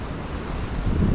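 Calm sea waves wash softly at the shoreline under steady broadband wind rumble, close and fairly loud, swelling slightly toward the end with no voices.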